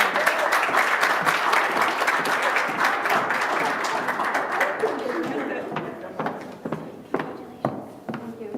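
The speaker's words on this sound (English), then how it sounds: "another round of applause for Michelle" Ceremony audience at a women's achievement awards event applauds warmly, dense clapping that thins out toward the end into scattered individual claps, with voices chattering underneath.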